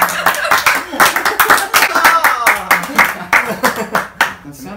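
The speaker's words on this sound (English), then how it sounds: "like clapping, laughing" Rhythmic hand clapping mixed with bursts of laughter and chuckling, close and fairly loud, with voices threaded through the claps.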